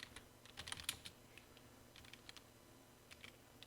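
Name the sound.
typing a command on a computer keyboard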